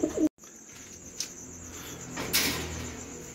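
Soft pigeon coos and faint bird calls inside a pigeon coop over a quiet, hissy background, with a brief knock and a short scraping sound.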